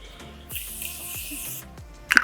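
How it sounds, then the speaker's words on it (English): A continuous fine hiss of Morphe Continuous Setting Mist sprays for about a second close by, followed by a short louder burst of spray at the end. "Do a light mist spray."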